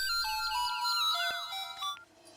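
A melodic electronic phone ringtone plays a repeating chiming pattern of bright tones, clear and close, then cuts off.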